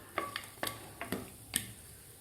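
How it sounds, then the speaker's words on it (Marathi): Cashews and almonds frying in ghee, stirred in a pan: about five sharp scraping clinks of a spoon in an uneven rhythm over a faint, steady sizzle, close by. "काजू आणि बदाम सुद्धा आपल्याला 1 मिनिटभर थोडेसे तुपामध्ये फ्राय करून घ्यायचे आहेत"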